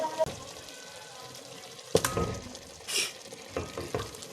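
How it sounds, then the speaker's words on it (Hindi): Half a kilo of chicken meat frying in a masala of softened onion and tomato, a quiet sizzle with a few scraping stirs and clinks of a spoon against the pan. "अब हम इस मसाले में इसको अच्छी तरह फ्राई कर लेंगे"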